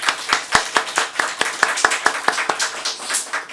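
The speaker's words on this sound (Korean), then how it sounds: "우리 하나님께 영광의 박수를 할렐루야." A church congregation claps in a steady rhythmic beat, sharp hand claps repeating about every quarter second, close and fairly loud, over a faint murmur of the room.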